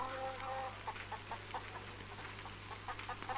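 A hen clucks softly in short, repeated bursts over a steady low hum, fairly faint and close, with no voices.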